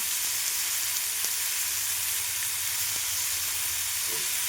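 Curry leaves fry in hot oil with a strong, continuous sizzle and hiss, broken by a few sharp crackles and spits, and no talking.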